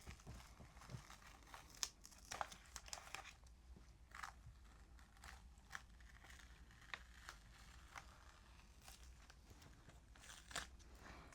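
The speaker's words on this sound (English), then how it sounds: "I think I might have painted a little bit into the tape, but we'll just see what happens when I peel it off." Masking tape being peeled off a painted mixed-media art journal page, quiet close crackling and tearing rips in short irregular bursts over a faint background hiss.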